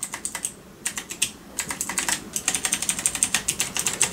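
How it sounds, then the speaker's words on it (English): Rapid clicky keystrokes clatter on a mechanical keyboard, in bursts with brief pauses, then a steady fast run of typing, close and crisp. "hear the clicks every time you typed"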